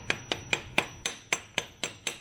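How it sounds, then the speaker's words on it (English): Nine evenly spaced hammer taps on a steel drift against a Triumph motorcycle primary, sharp metallic clicks in a steady rhythm, close and moderate in level with no talk. "I'm gonna get a drift and a hammer"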